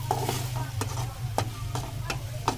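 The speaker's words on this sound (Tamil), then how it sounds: "கிளறி விடணும்" Okra poriyal (vendakkai) cooked in a pan and stirred with a spoon: soft scraping strokes about every half second over a low, steady sizzle, close by, with no talking.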